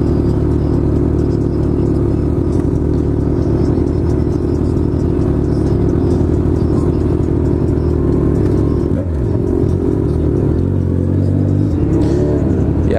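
Straight-piped motorcycles, a Kawasaki Z1000, a Yamaha Fazer 600 and a Suzuki Bandit 600, rumble loudly and close in a dense, continuous roar, with swelling revs toward the end.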